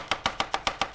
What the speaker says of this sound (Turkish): Ben o lahanayı sana doğradım.